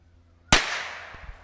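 An M-88 Silver Bomb firecracker from Cannon Brand bursts once with a sharp, loud bang after brief quiet, its report decaying into a short rumbling tail with a faint after-crackle.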